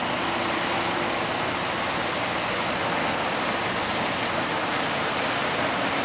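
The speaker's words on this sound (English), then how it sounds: "behind it, there's lots of other waves, quite big ones" Severn Bore tidal wave surging up the river with a train of large following waves, heard as a continuous loud broadband rush of churning water that stays steady throughout, with no voices.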